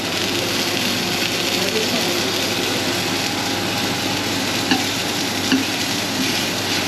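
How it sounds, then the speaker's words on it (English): Ormers searing in a hot pan, a loud and continuous sizzle with a steady broadband hiss under a constant hum and a couple of faint clicks near the end. "give some, I will call that, some bit of coloration to get this nice crust"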